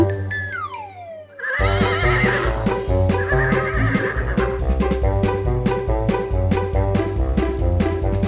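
A horse gives a loud whinny that falls in pitch, after which bouncy music with a steady beat plays loudly.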